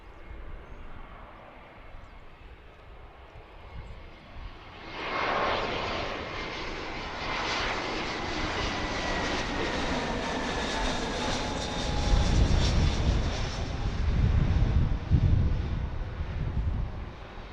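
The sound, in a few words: Blue Angel jet aircraft flying overhead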